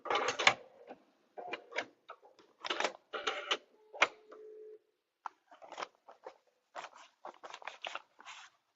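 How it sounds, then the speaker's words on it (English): A sewing machine stitching a placemat, with short bursts of quick mechanical clatter separated by pauses, close and moderately quiet, with no talking. "I know I'm good up to there, but I'm just going to stitch all the way off."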